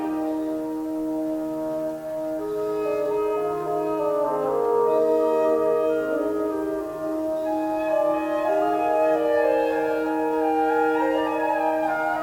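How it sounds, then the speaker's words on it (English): Orchestra playing the placid second subject of Mozart's Symphony No. 39, a soft, smooth, sustained melody over gentle harmonies, steady and moderately quiet throughout. "The second subject is very placid."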